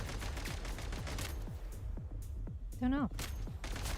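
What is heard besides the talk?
enemies shooting gunfire in Genshin Impact video game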